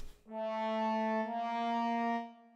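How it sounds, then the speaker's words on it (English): A sustained trombone tone holds steadily for about two seconds, rich in harmonics, then fades out; no voices. "That's the sound of a trombone right there."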